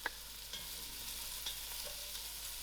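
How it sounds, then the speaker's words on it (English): Onions and leeks frying in butter in a pan, a steady soft sizzle running throughout with a few light stirring clicks, close and continuous with no voices. "Allow these onions to fry soft."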